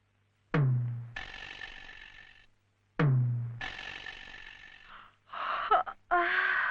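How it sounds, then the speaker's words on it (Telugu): Someone yawns in a dramatic film scene, letting out two long, drawn-out voiced yawns, close and clear, followed by a shorter breathy vocal sound. "ఏమిటి ఏమిటి అప్పుడే ఆవలింతలు?"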